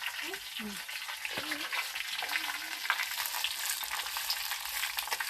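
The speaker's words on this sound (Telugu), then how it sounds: "బాగా నూనెలో మగ్గిపెట్టేస్తా పుదీనా పచ్చిమిరపకాయలు ఉల్లిపాయలు" Mint leaves, green chillies and onions frying in oil for pudina chutney, giving a dense, continuous close sizzle with occasional stirring.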